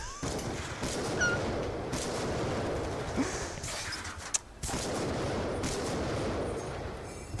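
Call of Duty gunfire on the Nuketown map, a dense series of rapid shots and bursts mixed with game effects, moderately loud with brief pauses between volleys.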